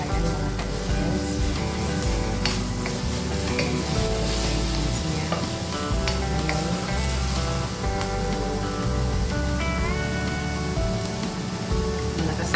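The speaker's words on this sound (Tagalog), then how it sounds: "Ilagay ko na ang sibuyas." Onion fries in a pan with a loud, continuous close sizzle, and music plays in the background.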